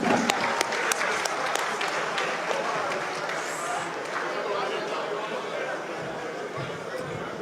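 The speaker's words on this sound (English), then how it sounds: "Please a round of applause for our living heroes." Audience clapping for former Nigerian presidents at a public event, a sustained crowd applause with a few sharp claps up front, murmuring voices underneath and some talk mixed in.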